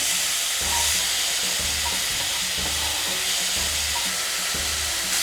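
Pork stir-frying in a pan sizzles loudly and steadily, with regular low scraping strokes of a spatula repeating about once a second beneath the hiss; no speech.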